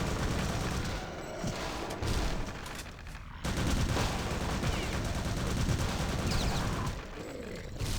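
Sustained gunfire at zombies in catacombs in Return to Castle Wolfenstein, dense and continuous with rapid repeated shots and brief lulls, loud throughout.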